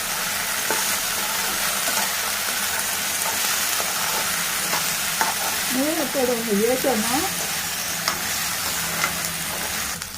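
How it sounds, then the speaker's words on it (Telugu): Okra and spring onion fry being stirred in a pan after turmeric and salt go in, with a steady close sizzle and scraping stirs throughout and a brief faint tonal warble partway through. "ఇప్పుడు మనం పసుపు ఉప్పు వేసాము బాగా కలపాలి"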